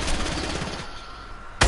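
Rapid automatic gunfire from an LMG in a first-person shooter game, a dense burst of rattling shots for most of the moment, then a brief pause before a single loud, close blast near the end.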